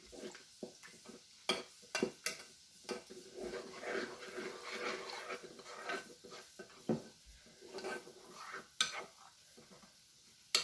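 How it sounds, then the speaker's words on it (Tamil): Spoon scraping and clinking in a bowl as spice powder for chayote sambar is stirred into water, with irregular taps and soft swishing, close by. "இதை வந்து தண்ணி விட்டு கரைச்சிக்குவோம். கட்டி இல்லாமல் கரைச்சிக்கலாம்."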